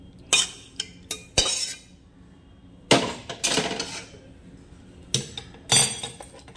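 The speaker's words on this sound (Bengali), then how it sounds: "এবারে আমি ঢেলে নিলাম।" Cooked small fish and onion curry is scraped and poured out of a pan. Metal utensils knock and scrape sharply against cookware in several close, irregular bursts with no talking.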